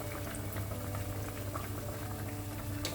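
Bread pakoda coated in gram-flour batter, with a pink filling, bubbles in a pan of hot oil, a dense, even, close seething that carries on without a break; no one speaks.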